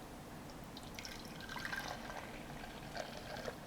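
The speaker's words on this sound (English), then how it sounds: "Very simply, you pour your mixture" Honey ice cream mixture pouring into the freeze barrel of an ice cream machine, a soft continuous liquid trickle with faint drips, steady at close range with no talking.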